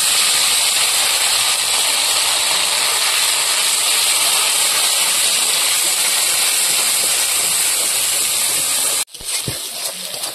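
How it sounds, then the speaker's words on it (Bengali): Ground spice paste with fish heads, ginger and cumin fries in hot oil, giving a loud, steady hissing sizzle that holds for about nine seconds and then cuts off abruptly into a quieter clatter. "এখন এই তেলের মধ্যে আমি এই বাটা মশলাগুলো দিয়ে দেব।"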